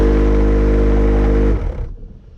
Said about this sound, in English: I've also got a big vibration coming from the heater when I turn it on.